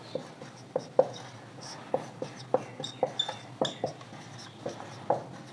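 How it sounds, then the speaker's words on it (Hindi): A pen writes math formulas by hand on paper in short, close scratches and taps with brief pauses between strokes, in a quiet room. "ऐसे फॉर्मूले लिख लेते हैं"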